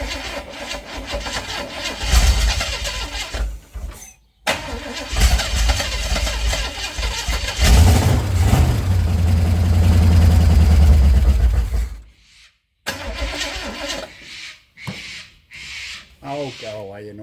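Holden 253 V8 fitted in an International truck cranks and fires again, running rough and loud for several seconds amid scraping noise, then stopping, with voices and bird calls around it.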